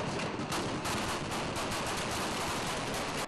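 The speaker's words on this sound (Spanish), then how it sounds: "Los disparos." A heavy exchange of gunfire outdoors during the 30S unrest sounds as a dense, continuous crackle of rapid shots. It is loud, harsh and unbroken for the whole stretch, with no voices.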